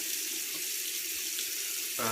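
Tap water runs steadily into a sink to wet the hands before styling a man's medium-length side part, a continuous close splashing hiss that swells a little louder at the very end.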